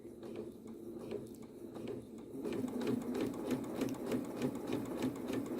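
A Janome sewing machine fitted with a hemmer foot stitches a rolled hem in a fast, even run of needle strokes, quiet and close, picking up pace partway through.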